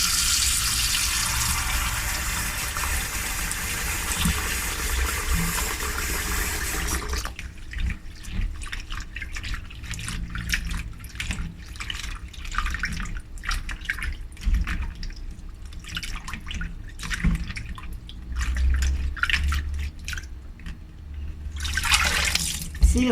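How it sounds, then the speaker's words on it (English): Dried white anchovies (ikan bilis) get a second rinse in a home kitchen. A steady rush of tap water runs first, then irregular splashing, swishing and drips follow, and the tap gushes again briefly near the end. All of it is close, with no speech. "See, the water is very cloudy, so I will rinse it one more time."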